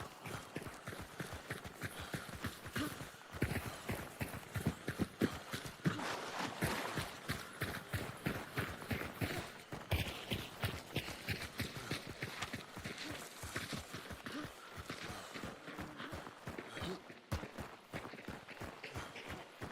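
Rapid hoofbeats of galloping horses in a video game clatter steadily throughout, a continuous drumming rhythm with brief pauses, fairly loud and close, with no talking.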